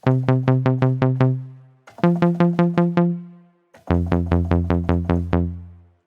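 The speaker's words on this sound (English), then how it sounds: "just a couple of saw waves, and this second oscillator is just detuned a tiny bit." Three loud synth phrases of rapid repeated notes from two saw waves, one slightly detuned, buzzy and bright with a wavering, thickened tone, each fading out before the next.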